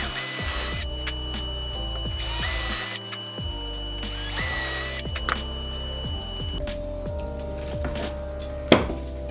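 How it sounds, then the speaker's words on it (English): A power drill whirs in repeated short bursts while drilling holes for a house number sign, spinning up and stopping several times, loud and close, with a clatter near the end. "Now we're just going to drill through those 3 spots"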